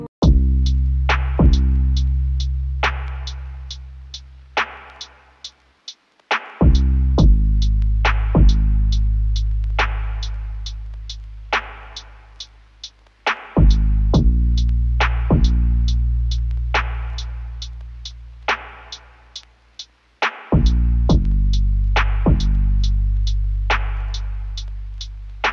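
A lo-fi bass sample from the Cymatics Eternity Lo-Fi Toolkit, deep sustained notes in phrases that fade and restart every few seconds under a crisp ticking beat, loud and alone.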